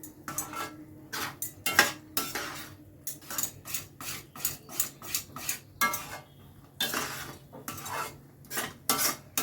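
A rice flour and tomato mixture stirred in a pan, with steady rhythmic scraping and clinking of a spoon against the pan, close and clear, no talking.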